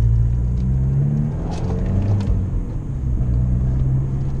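The engine of an Abarth 595 Competizione (160 hp) burbles low and steady, a deep rumble with faint pops, heard up close without any voices.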